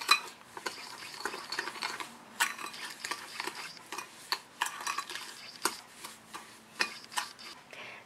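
Egg yolks whisked with sugar in a bowl for a lemon soufflé, a close, steady run of quick scraping and ticking strokes of a whisk against the bowl with sharper clinks scattered throughout.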